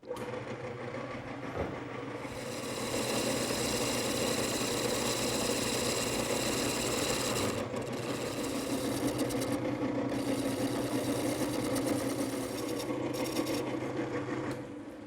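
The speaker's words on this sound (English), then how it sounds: "now I'll smooth up the outside and smooth up the bottom using the same gouge" A wood lathe spins a wooden bowl while a gouge smooths its outside and bottom, making a steady loud mechanical hum and whir with a few brief dips in the cutting noise.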